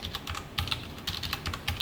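Keys clatter in quick irregular bursts as Java code is typed on a computer keyboard, close and fairly clear, with no talking.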